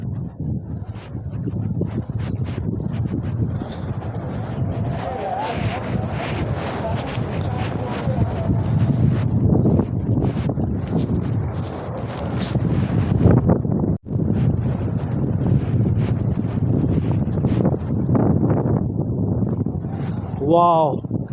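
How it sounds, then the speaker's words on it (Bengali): Strong wind blows in the snowy Lachung valley of North Sikkim, a loud continuous buffeting roar on the microphone with gusts. A person talks over it. "দারুণ হাওয়া দিচ্ছে এখানে।"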